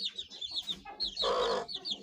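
Aseel breed chickens cluck in a run of short repeated calls, with one louder, drawn-out squawk in the middle, close and clear with no talking.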